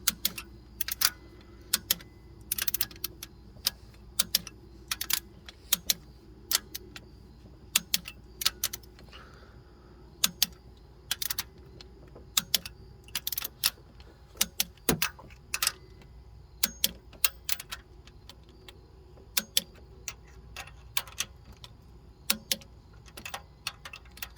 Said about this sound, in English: torquing them 21 foot-pounds